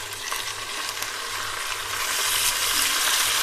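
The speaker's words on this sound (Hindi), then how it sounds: "अब इसमें 2 दरमियाने साइज के टमाटर बारीक कटे हुए वो डाल" Two finely chopped medium tomatoes go into a pan of lightly browned onions for karela gosht, and they sizzle and fry with a steady hiss and occasional stirring scrapes, close and alone.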